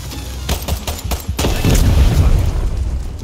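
Rapid gunfire in Far Cry 6 hits a vehicle, with bursts of shots followed by a heavy, rumbling explosion that swells and lingers loudly.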